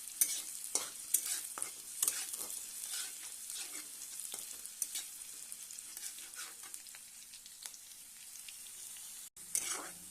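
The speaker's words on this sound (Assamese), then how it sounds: "এতিয়া পিঁয়াজখিনি লৰাই থাকিম যেতিয়ালৈ পিঁয়াজখিনি অলপ ৰঙচুৱা নহয়।" Onions fry with green chillies in a pan for Maggi noodles, a steady soft sizzle broken by repeated scraping strokes of a spoon stirring, close and alone without talk.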